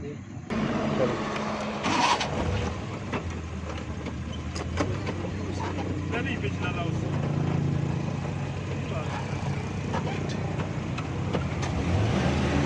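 A Suzuki Bolan van with a gear problem, just repaired, has its engine running steadily at idle with a low continuous rumble throughout. Faint talk and clatter can be heard in the background.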